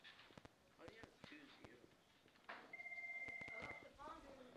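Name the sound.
telephone ringing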